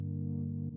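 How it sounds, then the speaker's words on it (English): Within a pop song intro, a synth pad holds a steady, sustained tone, very brief and alone, with a slight change near its end. "Then there is also a pad in the intro, sounding like this."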